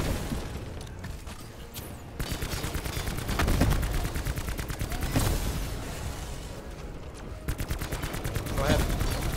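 Rapid bursts of automatic gunfire from a shooter video game during a Voyage of Despair Easter egg, dense repeated shots in several volleys with short breaks between them.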